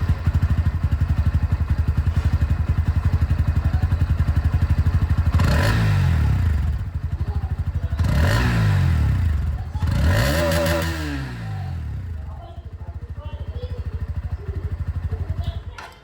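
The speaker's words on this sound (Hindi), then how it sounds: "अंडरव्हील एग्जॉस्ट मिलता था, सेम अभी भी मिल रहा है, तो इसकी आवाज़ आप लोग सुन लीजिए" A Bajaj Pulsar NS160 motorcycle with an underbody exhaust idles with a deep, throbbing note, then revs sharply three times before settling back to a rumbling idle.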